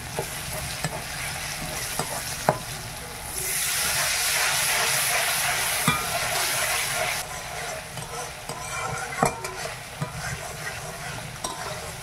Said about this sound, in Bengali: মশলাটা খুব ভালোভাবে ভাজা হয়ে গেছে